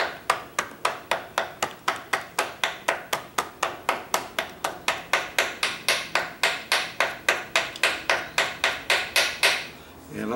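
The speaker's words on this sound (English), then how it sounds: "I'm going to take my little ball peen hammer here" A small ball peen hammer taps out a mounting hole in metal, laying out mounts for a Briggs & Stratton 12.5 V-twin engine: about thirty sharp, evenly spaced metallic strikes, close and loud, with no talk.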